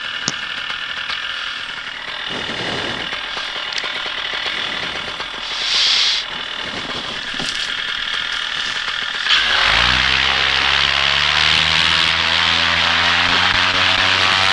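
Paramotor engine at takeoff, a droning propeller hum that surges sharply into a loud, rising roar about two-thirds through as the throttle opens, close to the microphone.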